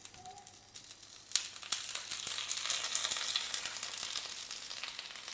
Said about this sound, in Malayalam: അപ്പം നമുക്ക് ഈ ചൂടായ എണ്ണയിലേക്ക് കുറച്ച് കറിവേപ്പില ഇട്ട് കൊടുക്കാം.